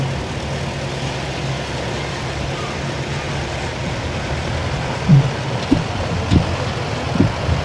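A restored vintage 23 horsepower tractor engine runs at an outdoor harvest festival, giving a steady low rumble throughout with a few faint knocks near the end.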